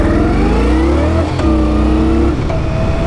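An Indian Scout Bobber motorcycle accelerates at full throttle, its engine note loud and close, climbing steadily in pitch, dropping briefly with a gear change, then rising again.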